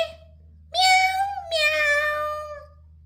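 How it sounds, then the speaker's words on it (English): A single drawn-out cat meow in two rising-and-falling pulses, clear and close, with a faint steady hum underneath and no other sounds. "Yes, cat!"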